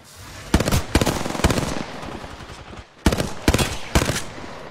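Automatic weapon fire from the Apex Legends video game, heard as two clusters of sharp, loud shots around a second apart, with steady background game ambience running between the bursts.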